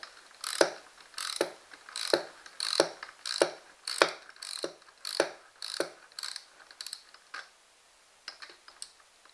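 A tool ratchets away at the screws of a broken garage door torsion spring, giving a quiet run of about fifteen sharp clicking bursts in a loose, uneven rhythm that thins out and stops near the end.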